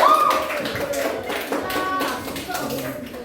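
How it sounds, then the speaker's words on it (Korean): A classroom audience at a group presentation claps, a dense patter of hand claps at moderate loudness, with voices talking over it. "박수 보내주세요"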